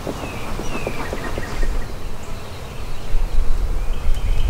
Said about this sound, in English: These bees are flying, they're bringing it back